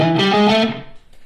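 Distorted electric guitar playing a fast blues lick in E, a quick run of loud, saturated notes that stops after about half a second and leaves a short decaying tail.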